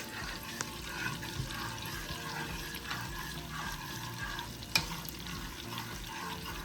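Meatball sauce with Parmesan cheese bubbles in a pot while being stirred, a soft, low-level simmer with light scraping and bubbling textures, quiet and close with no talking.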